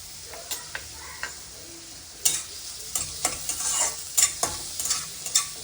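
Chopped onions with salt frying in a pan over medium heat for paneer masala: a steady sizzle under repeated close scrapes and clicks of a spoon stirring against the pan, busier in the second half, with no talking.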